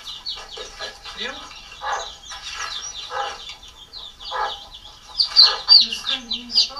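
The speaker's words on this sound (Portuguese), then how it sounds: "Aqui a galinha que tá aqui" Chickens in an abandoned house cluck and chirp repeatedly at close range, the calls overlapping in a busy, uneven stream that grows louder near the end.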